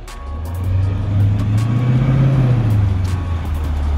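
Car engine growling down a street, a deep steady rumble that swells as it draws nearer, with faint background clicks and no talking.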